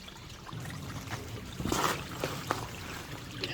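A shallow creek on a rainy solo camping trip trickles and gurgles softly and close by, with a steady low babble and a few brighter splashy spurts.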